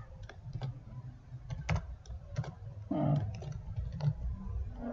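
A computer keyboard clicks close by in irregular bursts of keystrokes while HTML list items are typed, quiet and steady with no voices.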